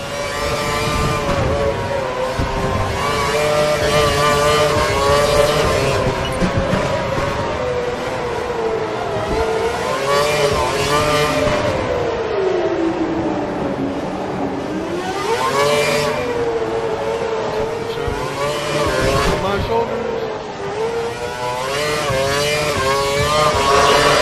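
A race car engine in a video game screams at full revs during the Monaco Grand Prix, its pitch rising and falling as it shifts gears, loud and continuous with a siren-like whine.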